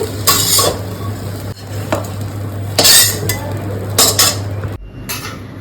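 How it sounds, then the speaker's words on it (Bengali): Metal utensils scrape and clink against a pan and plate in several short bursts as fried okra with dried fish is moved onto a plate, over a faint background hum that cuts out near the end. "এখন আমি এটাকে একটা প্লেটের মধ্যে নামিয়ে নেব।"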